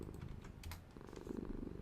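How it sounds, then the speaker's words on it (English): A contented cat in a video game purrs softly and steadily in a close, quiet, continuous rhythmic rumble with no voices. "3 hours of Happy Cat purring softly"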